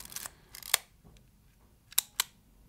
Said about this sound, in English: So you would hear the pure shutter sound without any echo.